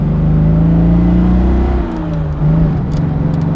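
A Jaguar XK150 Roadster engine pulls hard under acceleration, a loud, close, steady rising drone that drops briefly at a gear shift before building again.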